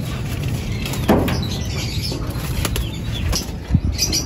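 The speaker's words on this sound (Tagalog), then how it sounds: "Ayun, yung mga kalapati natin." Pigeons from a fancier's loft take off and fly past, their wings flapping loudly in sharp bursts over a steady outdoor background, with faint chirps.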